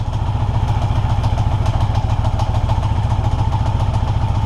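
A 1982 Yamaha XJ650 motorcycle engine runs loud and close with a rapid, even thumping beat and some mechanical clatter, sustained steadily throughout.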